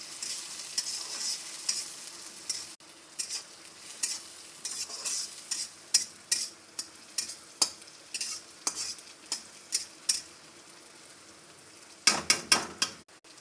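Tomatoes frying in hot oil in a pan while being stirred, with a steady sizzle and repeated sharp scrapes and clicks of a spoon against the pan, louder bursts of stirring near the end, no talking.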